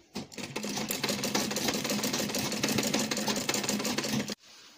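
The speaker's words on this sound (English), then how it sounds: "Our machine will just go vim, vim, vim, vim on the four corner" A sewing machine stitches the four corners of an Ankara fabric baby puff duvet, running in one loud, continuous rapid whirr close by, then stopping abruptly near the end.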